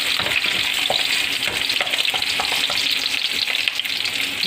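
Ginger sizzles and fries steadily in a pan as the base for chicken sinigang, with occasional stirring clicks over a continuous close, loud crackle and no talking.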